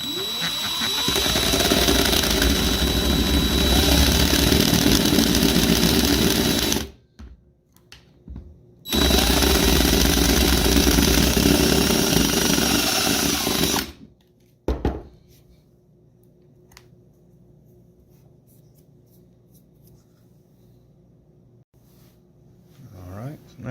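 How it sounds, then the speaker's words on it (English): A small cutoff wheel grinds a groove into the cover of a Level Mate Pro, running in two long, loud, whining bursts with a short pause between them, then falling to a quiet hum. "And I've got just a little cutoff wheel."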